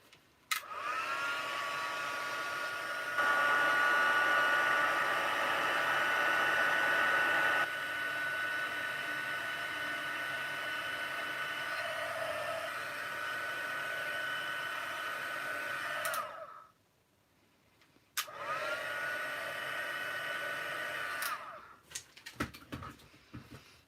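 An embossing heat tool blows hot air over embossing powder on a stamped card, a steady loud whooshing hiss that shifts intensity, stops briefly, then resumes before switching off.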